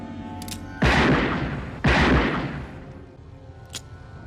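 Two loud, heavy gunshots boom close together from a scene in the horror film Child's Play 2, each ringing out with a long decaying echo, followed by a fainter sharp crack.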